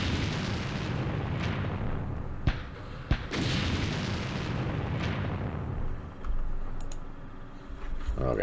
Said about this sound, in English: Those rockets are devastating.